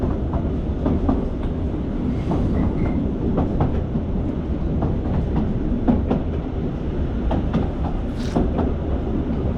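An old train on the Bala Railway rumbles steadily past at close range, with rhythmic clacking of wheels over rail joints and occasional higher squeaks.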